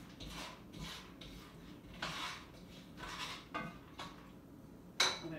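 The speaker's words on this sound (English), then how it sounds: "I'm going to give the peanuts a stir." Peanuts stirred in a pan while cooking Kung Pao beef, giving repeated scraping and rattling strokes of a utensil against the metal pan, fairly close and moderate in level, with a sharper clink near the end.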